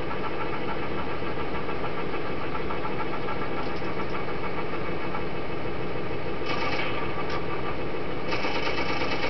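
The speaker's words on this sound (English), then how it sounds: "I just started her up. I'm going to cycle the turret." An M-46 tank model starting up and cycling its turret gives a steady mechanical whir and hum, joined by a brighter buzzing motor sound in bursts near the end.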